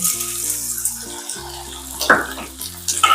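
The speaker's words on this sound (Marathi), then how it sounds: "तूप गरम झालेलं आहे आता डिंक टाकते" Edible gum (dink) frying in hot ghee in a kadhai for dink laddoos, giving a steady bubbling sizzle with a few sharper crackles over a constant low tonal background.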